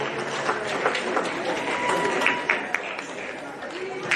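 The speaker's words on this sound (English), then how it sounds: "So a round of applause for them as well." A crowd at a women's football final between Spring Hills FC and Keilor Park SC claps and cheers in a sustained, moderately loud round of applause, with an announcer's voice carrying over it.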